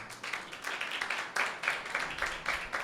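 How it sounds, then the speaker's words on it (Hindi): A church congregation at a Sunday meeting claps together in quick, steady applause, a dense patter of many hands at moderate distance, with faint voices underneath. "यीशु मसीह के लिए जोरदार तालियां बजाएं।"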